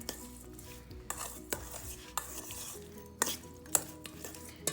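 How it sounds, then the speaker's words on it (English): Shrimp marinade with minced garlic is stirred in a bowl, a close run of scraping, clinking strokes with sharp knocks every second or so, and no voices. "And I'm going to go ahead and give that a nice little stir. Mix all the ingredients together."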